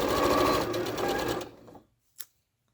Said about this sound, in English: I'm just going to sew to there and then backstitch.